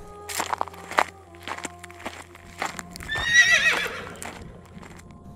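A horse gives a loud, shrill neigh in the middle of a short stretch of nearby hoof clops and shuffling steps, heard as a sound effect in a Tagalog aswang horror story.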